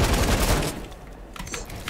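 Light machine gun fire in a solo free-for-all shooter match, a dense loud burst of rapid shots for the first stretch, then quieter scattered pops and clatter as the volley dies away.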